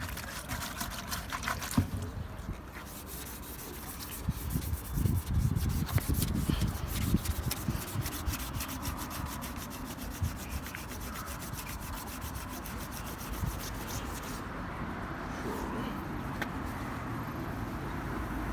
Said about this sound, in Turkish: İnce sulu zımpara.